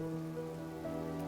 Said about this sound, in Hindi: अब बारिश तो है ना